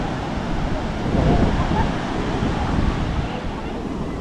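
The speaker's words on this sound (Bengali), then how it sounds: "আমার পেছনেই হচ্ছে পুরীর সুন্দর সমুদ্র সৈকতের ঢেউ" Ocean surf at Puri beach, a dense roar of breaking waves close by with wind buffeting the microphone, loud and continuous, while a person talks over it.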